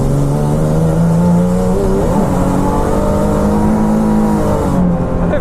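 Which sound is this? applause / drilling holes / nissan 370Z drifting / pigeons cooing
nissan 370Z drifting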